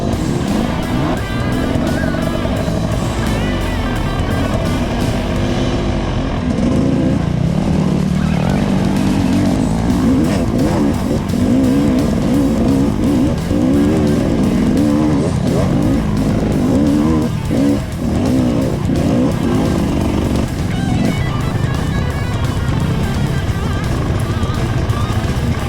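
Several dirt bikes, including a Yamaha WR250R, WR250F, KTM and Husqvarna, ride through Ourimbah State Forest, their engines a steady loud drone with revving surges throughout.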